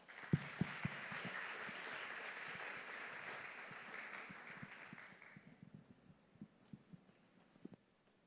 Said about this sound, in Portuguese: E eu queria que você recebesse com muito carinho, com aplauso, com glória a Deus, pastora Thalita Malafaia.